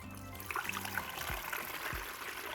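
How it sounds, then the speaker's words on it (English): Curdled milk for queso fresco strained through a cheesecloth-lined colander, a soft continuous trickle and pour of liquid, close and fairly quiet, with a couple of dull knocks. "And now we're just going to strain it."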